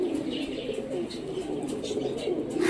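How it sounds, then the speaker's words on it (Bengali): Rajshahi yellow-eyed Giribaz pigeons at a loft, with soft cooing and light chirps close by over a steady low murmur of birds, with a few brief wing flutters. "এটা হলো আমাদের রাজশাহীর হলুদ চোখের কবুতর"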